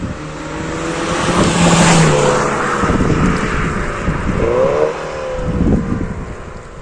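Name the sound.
Mini John Cooper Works F56 Stage 1 exhaust popping passing by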